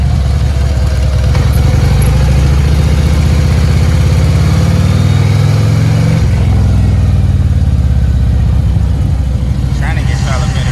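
A Harley motorcycle engine runs loud and continuous while being ridden, its low rumble rising and sagging unevenly as it bogs, then recovering near the end.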